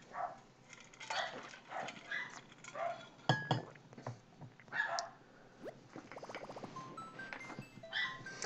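A pet dog named Waffles barks in the background of an indoor room, in scattered, fairly faint bursts, with a few light clinks of dishes.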